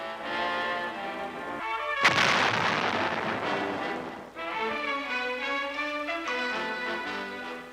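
A tank main gun fires once in a single loud, sharp blast that rolls into a long decaying boom, with steady engine hum before and after in a military training exercise.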